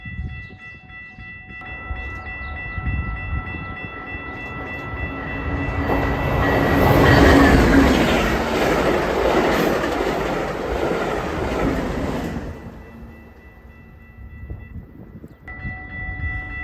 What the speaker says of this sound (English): Next would be Amtrak Hiawatha 334, led by two Chargers hauling to Chicago.